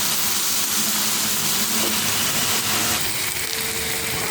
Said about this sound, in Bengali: তাহলে এটা আরও কিছুক্ষণ ভেজে নিই এইভাবে